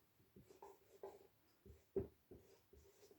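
Pen writing on paper, close and quiet, with a series of short scratchy strokes in an uneven rhythm and one slightly firmer stroke in the middle.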